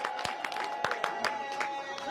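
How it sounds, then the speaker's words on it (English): A gathered crowd claps for the women at a political event, scattered and uneven hand claps with a few sharper individual slaps standing out over a murmuring background. "So let's clap for the women first."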